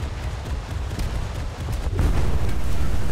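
A torpedo strike from an Albatros fast attack craft in the naval combat game War Thunder: a dense, rumbling low boom that swells and holds loud near the end, with no voices over it.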